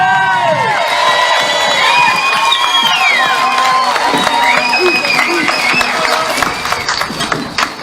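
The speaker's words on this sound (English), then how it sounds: "Ladies and gentlemen, would you give a huge round of applause to Helen Dalton." A rally crowd at the Convoy to Canberra protest cheers, whoops and claps loudly for Helen Dalton, with shouts and whistles over sustained applause that tapers slightly near the end.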